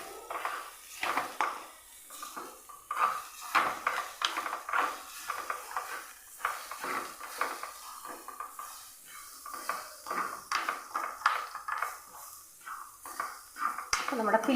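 A spoon stirs roasted, fried paneer samosa filling in a pan, with repeated close scraping and clinking of metal against the pan in an uneven rhythm, with light talk underneath.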